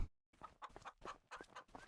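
Chickens cluck in the Farming Simulator 25 game, a quick run of short, soft clucks in an uneven rhythm, close by and fairly quiet, with no talking.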